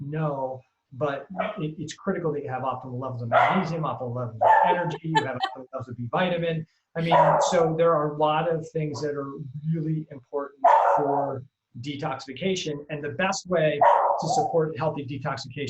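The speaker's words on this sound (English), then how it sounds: "sorry about my dog." A dog barks and yips intermittently in the background while someone talks steadily over it throughout.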